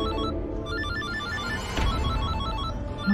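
A phone ringtone plays a repeating melodic electronic pattern, steady and moderately loud, with no talking.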